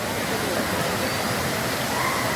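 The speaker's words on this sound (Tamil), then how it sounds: "திருப்பரப்பு நீர்வீழ்ச்சி." Thiruparappu waterfall rushes in a dense, steady roar of falling water, loud and continuous from start to finish.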